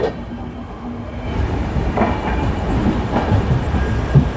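The 12837 Howrah–Puri Superfast Express runs at speed, heard from on board as a loud steady rumble of wheels on rails with faint rhythmic clacks.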